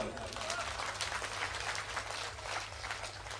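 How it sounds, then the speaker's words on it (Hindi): Dense, continuous crowd applause from an outdoor poetry gathering in Deshnok, many hands clapping at once with a steady hum underneath, fairly faint and distant, with voices mixed into the noise. "एक बार जोरदार तालियां बजाओ।"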